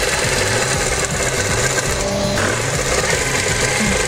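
A sewing machine joins two pieces of shiny fabric, its fast, close mechanical chatter running loud and unbroken throughout with a steady rapid pulse.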